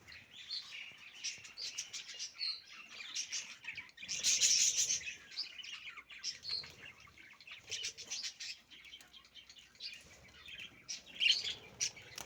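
Canaries and budgerigars in an aviary keep up a busy stream of chirps and tweets, with wings fluttering now and then and one louder flurry partway through. No one speaks.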